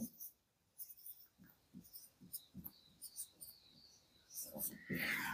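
A pen writes numbers on paper during a set-theory maths lesson. Quiet, close strokes tap and scratch in a quick, uneven rhythm, ending in a louder, longer scrape.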